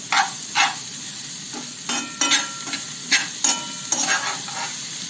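A spoon stirs zucchini, onion and carrot frying in a pan, scraping in irregular bursts over a soft steady sizzle, close and clear with no talking.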